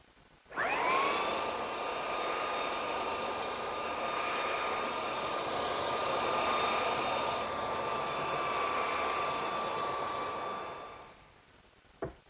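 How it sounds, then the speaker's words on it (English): A belt sander switches on with a rising whine and then runs steadily for about ten seconds, working along the grain of a wooden drop-leaf table top, before it winds down and stops, with a small knock at the end. "You don't want to let the sander sit in one place, or else it'll dig a real deep hole in there."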